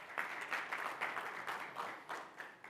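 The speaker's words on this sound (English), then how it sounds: "So big round of applause for Mark." Audience at a sponsor lunch presentation applauding, a fairly faint, distant patter of many hands clapping steadily for a few seconds.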